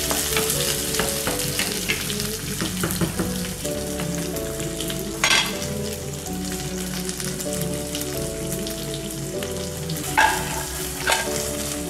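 Sliced green chillies fry in a pan with a dense, steady sizzle and occasional scraping stirs, loud and close, with no talking.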